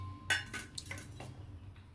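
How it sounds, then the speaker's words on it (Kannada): A frying pan (kadai) is set down on a home kitchen stove before cooking drumstick flower palya, giving a few quiet metallic clanks and clinks close by, with no voices. "ಬಾಣಲೆ ಇಡೋಣ."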